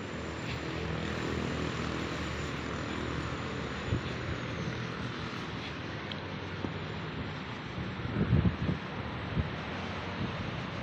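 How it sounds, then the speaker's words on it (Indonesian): Strong wind gusts outdoors at an open 30-meter air rifle range, a constant broad rushing roar buffeting the microphone, with a few short thumps and knocks near the end. "Tuh, anginnya kenceng banget padahal"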